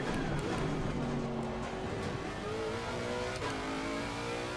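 The Lexus race car in Assetto Corsa Competizione revs hard with a steady, droning engine note that climbs through gear changes, loud and continuous throughout with no talking.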